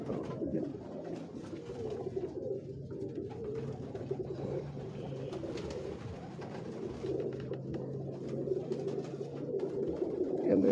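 Pigeons coo steadily from a rooftop loft in Lahore, a continuous overlapping chorus of low, throaty calls, fairly close and without speech.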